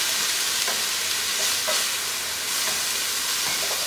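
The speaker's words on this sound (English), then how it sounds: "So we're just going to add that to the pan, give it a little stir, and let this simmer down." Sliced half-moon onion tipped into a hot pan and stirred, giving a steady close sizzle with a few soft scraping strokes through the hiss.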